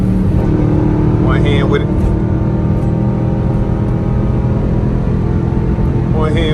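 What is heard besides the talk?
Dodge Durango RT straight-pipe exhaust revving on paddle-shift downshift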